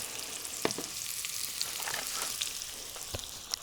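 Potatoes frying with onion and carrot give a steady, even sizzle throughout, with a few faint clicks and knocks of a utensil against the pan.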